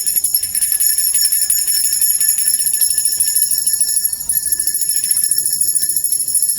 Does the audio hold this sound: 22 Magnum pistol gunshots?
no